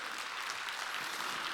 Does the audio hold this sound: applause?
yes